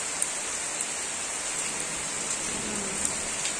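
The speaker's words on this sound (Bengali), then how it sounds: "মুষলধারে বৃষ্টি হচ্ছে।" Heavy rain falls in a constant, dense roar at night, with a few sharper drips and taps standing out now and then, and no voices.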